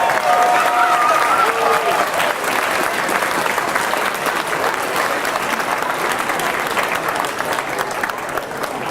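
Audience applause after a 10,000-domino computer demonstration, dense loud clapping from a crowd sustained for nearly nine seconds, with a brief whistle near the start.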